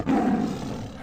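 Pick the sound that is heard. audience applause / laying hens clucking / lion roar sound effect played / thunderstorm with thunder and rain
lion roar sound effect played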